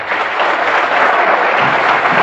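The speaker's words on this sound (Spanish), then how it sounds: "¡Aplausos!" Audience applause following a recited song to Juan Manuel de Rosas, a loud, dense, continuous wash of clapping heard alone without voices.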